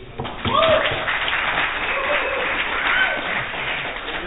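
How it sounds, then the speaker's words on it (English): An audience applauds a startup team presenting at a pitch weekend, a moderate round of clapping mixed with crowd noise and some talking voices. "a big round of applause, please"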